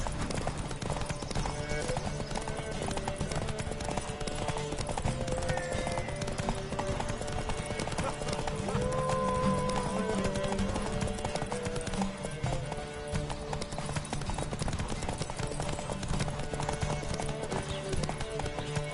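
Roach the horse gallops through a video game race, a continuous rapid clip-clop of hooves with occasional snorts and whinnies, over a busy background of other riders and game sound.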